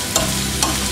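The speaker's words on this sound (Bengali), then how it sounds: "পেঁয়াজ আর রসুনগুলোকে ভালো করে ভেজে নিতে হবে।" Onion and garlic fry in a pan with a constant bright sizzle, and two quick scrapes of stirring stand out within about a second, close up and without voices.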